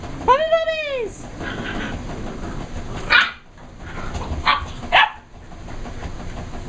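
Puppies yap in short, high bursts close by, with a few more barks scattered through, over a steady hum of a running washing machine indoors.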